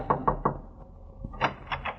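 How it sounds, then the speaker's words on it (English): Knocks on an apartment door: a quick group of three raps followed by a pause, then another group of three, close and crisp in a quiet space. "I knocked."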